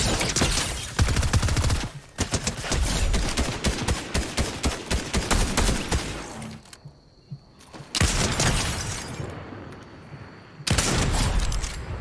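Gunfire in the Fortnite video game, loud dense bursts of rapid shots packed together, broken by brief quieter gaps before the firing resumes.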